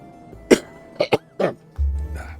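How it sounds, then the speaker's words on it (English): Several harsh, close coughs in separate bursts from a man who is sick with a lingering week-long illness, with a brief low rumble near the end. "Sorry, I keep coughing."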